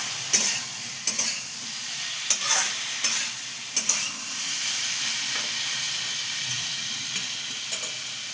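Vegetarian bottle gourd curry with fritters being stirred in a pan: a steady sizzling hiss runs throughout, punctuated by regular scraping strokes of a spatula about once a second, close and moderately loud.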